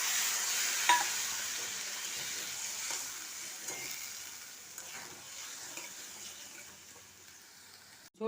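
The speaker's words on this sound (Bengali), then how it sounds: "ঝোলটা ফুটছে," Prawn curry gravy, with water added to oil and spices, simmering in a pan: a quiet continuous bubbling hiss with occasional light pops and scrapes, fading slightly toward the end.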